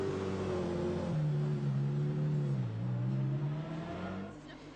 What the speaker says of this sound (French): c'est aussi des séances de roulage libre, comme pour cette Alfa Romeo Giulia, ou pour Maud